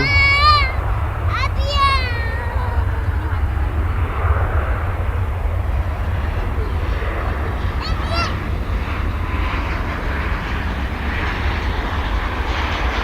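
Boeing 737-800 airliner at DFW Airport, a loud, continuous jet engine rumble that holds steady throughout, with brief voice-like tones near the start and faint higher sounds later.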